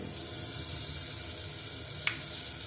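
A soft, steady sizzle of butter melting in a pressure cooker, quiet and continuous, with a single faint clink partway through.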